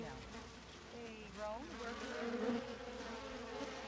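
Thousands of worker bees swarming in an open hive with the top removed, a faint steady buzzing drone with a few wingbeat whines rising and falling as individual bees pass close.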